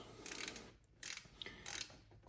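A torque wrench set to 110 inch-pounds works bolts on a Harley-Davidson chest cover, giving three bursts of rapid ratcheting clicks separated by brief pauses, close and fairly quiet.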